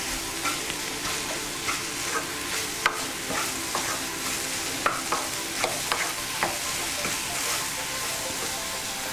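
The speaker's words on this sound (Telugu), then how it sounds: "ఇప్పుడు దీన్ని మనం బాగా కలుపుకుందాం." Pav bhaji with chili powder and pav bhaji masala stirred in a hot pan: a continuous sizzle with a scatter of sharp spoon scrapes and taps against the pan, close and fairly even throughout.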